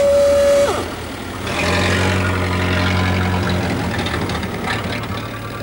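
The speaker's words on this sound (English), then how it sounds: "let the magnificently maintained heart of his car tick over happily at under 100 revs per minute" An old car engine ticks over slowly at a low, steady idle under 100 rpm, a deep rumbling hum that holds close and even after a brief tone at the start.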